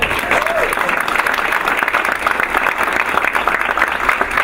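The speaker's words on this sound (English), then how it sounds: "Give her a round of applause." Steady, dense applause from an audience at a school board of education meeting honoring a newly recognized board president, loud and continuous throughout with faint voices mixed in.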